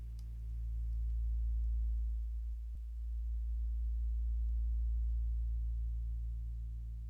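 A deep, steady low bass hum of synthetic harmonics from a Psycho Bass effect drones continuously, swelling slightly, with a faint click partway through.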